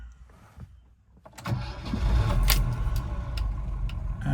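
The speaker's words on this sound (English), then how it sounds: "quick video of start up and idling on this DS23 Pallas" A 1973 Citroen DS23 Pallas with a 5-speed manual sits quiet, then its engine cranks and catches after about a second and a half and settles into a loud, steady idle close by.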